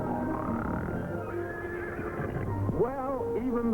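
A horse whinnies loudly in a film trailer for the Abbott and Costello comedy It Ain't Hay, a rising, wavering neigh over faint hoof clip-clop and background sound.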